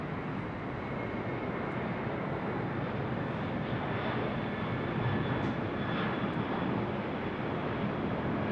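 MD-11 airliner approaching LAX on a south-side arrival, heard as a steady, distant engine roar that holds evenly throughout, with no voices.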